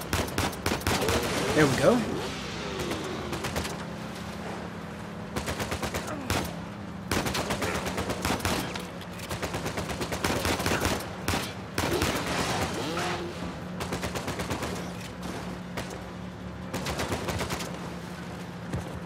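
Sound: gunfire in the video game Uncharted 4

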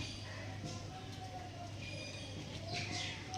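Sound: pigeons cooing

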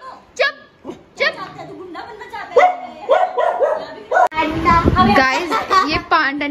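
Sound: dog barking at strangers

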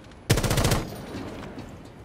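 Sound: gunfire in Rainbow Six Siege video game

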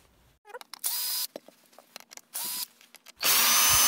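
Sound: disassembling the bottom of an electric kettle with a power tool

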